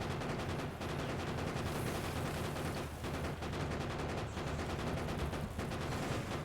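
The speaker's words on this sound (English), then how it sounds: "Of course the trees block my shots" Continuous rapid gunfire in the video game Factorio with the Krastorio mod, dense automatic bursts running almost unbroken with only brief gaps, loud and steady.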